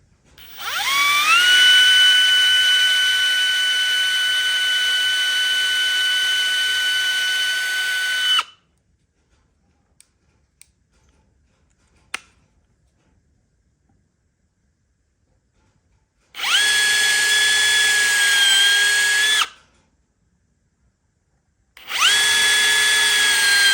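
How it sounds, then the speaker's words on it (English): A power drill pre-drills holes in a wooden lazy susan, running in two long steady whines with a brief quiet pause between them and a short final burst, loud and close with no talk. "All right, so get these things pre-drilled real quick."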